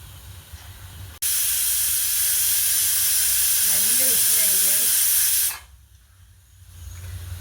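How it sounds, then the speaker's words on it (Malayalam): A pressure cooker cooking jackfruit curry lets out a loud, steady hiss of escaping steam for about four seconds, starting abruptly and cutting off sharply, with quiet room noise before and after. "നമ്മളെ കുക്കർ ഇവിടെ വെന്തുകൊണ്ടിരിക്കുകയാണ്."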